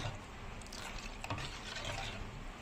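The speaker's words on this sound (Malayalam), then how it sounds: "ഈ മാവ് കട്ട പിടിക്കാൻ പാടില്ല, നമ്മൾ ഇളക്കി കൊടുത്തോണ്ടിരിക്കണം." Palappam rice batter being stirred continuously in a pan on the stove as it thickens, a steady soft scraping and rubbing with faint sizzle, moderately quiet and close, with no one talking.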